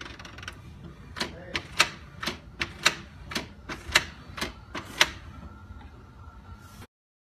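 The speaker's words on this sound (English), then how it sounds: "it should start printing out any second now" A shipping label feeding out of a home printer, giving a steady run of about a dozen sharp mechanical clicks and ticks over a low motor whir, fairly close, ending abruptly.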